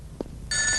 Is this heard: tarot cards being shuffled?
no